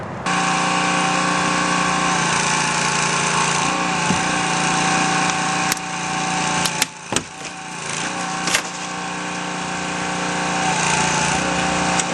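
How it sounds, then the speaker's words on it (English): A hydraulic rescue tool cuts through the top of a car's B-post during sidewall removal, giving a loud, continuous mechanical drone with a few sharp cracks and snaps of metal partway through. "So our next step now is to cut the top of the B-post and swing it all out."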